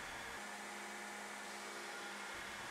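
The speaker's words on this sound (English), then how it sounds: "More grinding." Steady mechanical grinding on a Damascus steel Japanese sword guard (tsuba), a constant broadband whir that holds evenly and drops briefly near the start and end, no talk.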